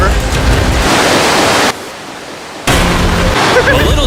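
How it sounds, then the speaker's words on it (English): A river running through a cave makes a loud, broad rushing roar that cuts out abruptly for about a second before surging back at full strength. "this river actually runs throughout the entire cave"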